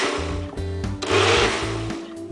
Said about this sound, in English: you want to pulse the blender 3 times, release some of the steam